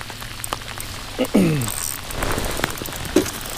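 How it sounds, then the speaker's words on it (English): Continuous rain patters on a fishing boat drifting on the water, with a short voice-like sound and a few knocks over the steady downpour. "Drifting in the rain."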